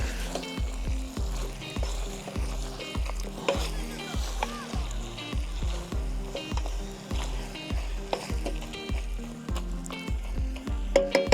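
Carrots being stirred into a one-pot rice meal cooked outdoors in the wild, a steady soft sizzle with repeated rhythmic scraping strokes of a utensil against the pot, close and continuous, no talking.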